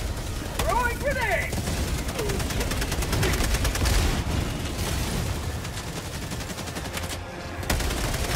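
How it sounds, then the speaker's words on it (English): Loud, near, continuous rapid gunfire from the Helldivers 2 video game with heavy booms mixed in. A voice shouts briefly over the shooting. "Throwing grenade."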